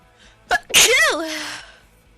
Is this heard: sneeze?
yes